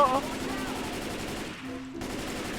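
Rapid automatic gunfire rattles in Left 4 Dead 2, loud and dense, with a voice speaking briefly over it.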